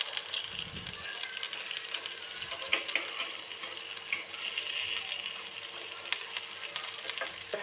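Food frying in a pan on low gas is turned over, giving a faint, steady sizzle and crackle broken by a few light scraping clicks.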